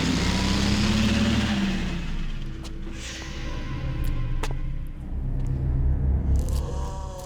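A truck engine from the video game Resident Evil 2 rumbles at a steady low pitch, with revving surges and a few sharp clicks, and no talking.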